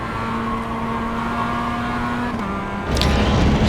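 Mazda MX-5 Miata production race car engine in iRacing, a steady droning exhaust note at racing speed that shifts pitch near the end before a louder, rougher surge, with no talk heard.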